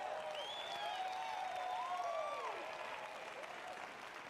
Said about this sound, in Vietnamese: tiếng reo hò.